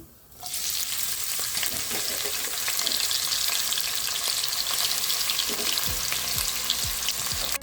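Fennel seeds and onions hit hot oil in a pan and burst into a loud continuous sizzle, close and steady, with a few scraping stirs of a spoon near the end.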